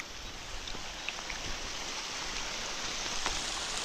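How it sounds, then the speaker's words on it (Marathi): Light rain falls steadily outdoors near a creek in the Konkan coast, a soft continuous hiss with faint scattered drops, fairly quiet and without voices. "हा बघा कसला पाऊस पडतोय खतरनाक"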